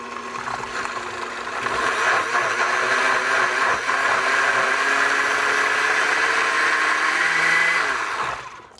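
A blender whizzes mango with orange juice, a loud, steady motor whir that ramps up after the first second, holds evenly for several seconds up close, then winds down at the end.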